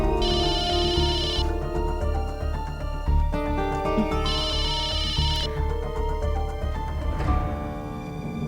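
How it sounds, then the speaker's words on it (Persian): A telephone ringtone plays loudly in two repeating electronic bursts with a steady melodic tone between them. "حالا دیگه تلفنت جواب بده"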